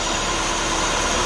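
An Austin Ambassador Vanden Plas engine ticking over at idle, a steady, close, continuous broadband hum and whir with no talk.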